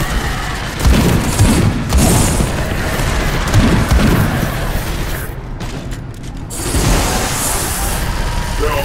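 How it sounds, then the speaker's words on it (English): Missile blast in the video game Left4Deathwing, a loud rumbling boom with layered explosive crashes sustained over several seconds amid dense battle noise, with a brief dip before the roar builds again. "missile!"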